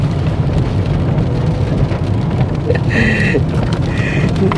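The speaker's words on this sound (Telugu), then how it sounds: "చూడండి వర్షం స్టార్ట్ అయింది" Steady, loud rain pours down continuously at Batu Caves in Malaysia, with a dense hiss and low rumble filling the air throughout.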